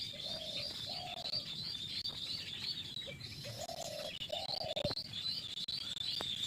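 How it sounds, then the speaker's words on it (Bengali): Village birdsong near a baya weaver nest in a coconut tree: repeated soft cooing phrases and a constant high chirping chorus, moderately distant, with a few sharp clicks and no talking. "তারপর এই যে পাখির আওয়াজগুলো শুনুন"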